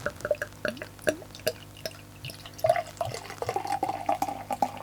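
Harvey's Christmas Ale, a strong 7.5% beer, is poured into a glass, giving a run of close, soft glugging drips and liquid splashes that grow busier toward the end.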